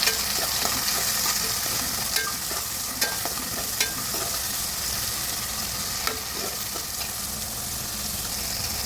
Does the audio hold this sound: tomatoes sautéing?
yes